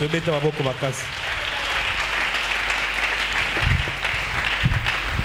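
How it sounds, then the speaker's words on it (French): A church congregation applauding loudly, a broad sustained wash of clapping with a few louder swells, following a preacher's call and mixed with cheering voices. "Acclamons très fort pour la."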